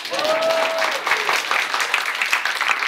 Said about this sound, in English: I guess clap one more time for me.